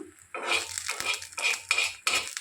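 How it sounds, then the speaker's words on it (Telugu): A utensil scrapes and clatters against a pan while an egg omelette is flipped and cooked golden on both sides, with four or five close, sharp bursts of metallic scraping and a faint sizzle underneath. "మరొకసారి ఇలా తిప్పుకొని రెండు పక్కల కూడా మంచిగా"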